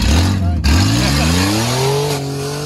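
Chevrolet-engined car revving hard at wide open throttle and charging toward a pond, a loud close engine roar with pitch rising steadily, voices shouting over it.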